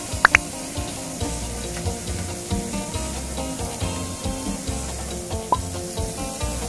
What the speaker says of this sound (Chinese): 啲鸡皮都好似煎得差唔多，冚翻张纸，煎多一阵